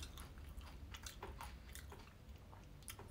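Sugary cereal being eaten, close and quiet, with steady chewing and soft crunching bites repeating over a few seconds.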